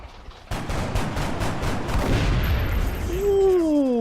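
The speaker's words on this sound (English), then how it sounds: "Some free Overwatch shots." Overwatch gunfire in XCOM Long War, a rapid volley of loud shots in quick succession that tails into a rising whine near the end, with no talk over it.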